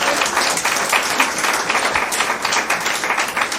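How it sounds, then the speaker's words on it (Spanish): A church congregation applauds during a Sunday service. The clapping is brisk, dense and even, fairly close and sustained throughout. "dé un aplauso al Señor"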